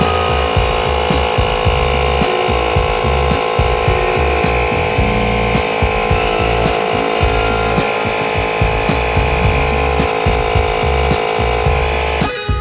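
A small electric tyre inflator pumping a tubeless bike tyre drones loudly and steadily, a buzzing motor hum with a rapid throbbing pulse and faint regular clicks, running alone without voices.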